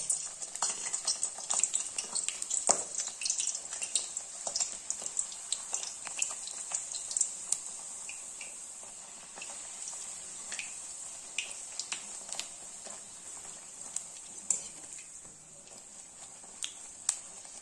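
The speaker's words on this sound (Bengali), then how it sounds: "কড়াইতে কিছুটা তেল নিয়ে ভালো করে গরম করে নিয়েছি। এবারে একে একে লুচিগুলোকে ছেড়ে দেবো।" Green luchi, a spinach-tinted puri, fry in hot oil in a wok with a steady, close, crackling sizzle, lifted by brief pops and stirring clinks. No one speaks.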